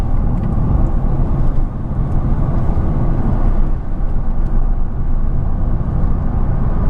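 Steady low road rumble fills the cabin of a moving Honda Civic 1.6 i-DTEC Sport five-door at around sixty miles an hour, a constant dense drone with no gaps or rises.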